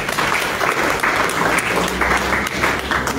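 Church congregation applauding for Jesus Christ during a prophecy service: dense, sustained clapping fills the whole stretch at steady loudness, with faint voices beneath.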